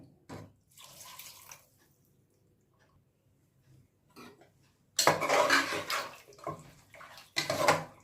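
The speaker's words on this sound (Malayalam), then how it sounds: "അരച്ചു വെച്ച മസാലയിലേക്ക് വെള്ളം ചേർത്ത് മിക്സി കഴുകി ആ വെള്ളം കൂടി ഒഴിക്കാം" A mixer jar is rinsed with water, swirled and emptied into ground masala, heard as short bursts of splashing and pouring with clinks of the jar between quiet pauses, close by.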